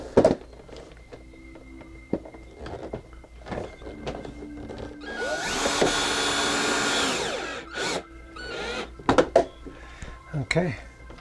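A power drill drives screws while a MrCool mini-split heat pump is being installed, making one sustained whirring burst of a couple of seconds among knocks and clunks. Brief talk is heard between the sounds.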